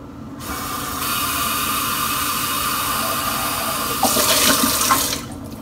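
Water runs steadily from a faucet into a pot for cooking rice, a close, even rushing hiss with a slightly louder splashing surge near the end before it stops.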